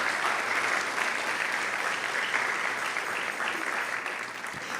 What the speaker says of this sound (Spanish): Vamos, sí, denle un aplauso al Señor.